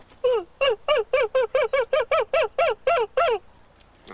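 A human voice imitates a screech owl call, giving about twelve evenly spaced, squeaky descending whinnies in a fast steady rhythm, close and loud, then stopping abruptly.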